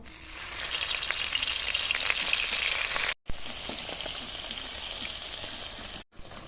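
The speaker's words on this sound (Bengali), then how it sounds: "মাছগুলো ভাজি নেব" Small fish frying in oil in a hot kadai give a continuous crackling sizzle, briefly cut off twice.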